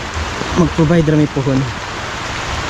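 Heavy rain pours down in Claveria, Misamis Oriental, Mindanao, a loud, dense and continuous hiss that fills the scene while a person speaks briefly over it.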